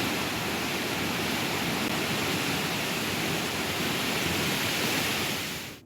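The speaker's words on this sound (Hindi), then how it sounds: "इतना पानी और इस पानी का शोर इतना खतरनाक कि किसी के भी कान के पर्दे फाड़ दे।" Torrent of water released from the Bhima dam in Kalaburagi, a loud, steady, unbroken roar of rushing water filling the whole clip, close and alone, fading out only at the very end.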